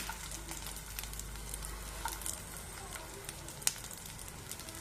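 Cumin seeds fry in hot oil for a green tomato chutney, giving a steady, dense sizzle and crackle throughout, with a faint clink partway through.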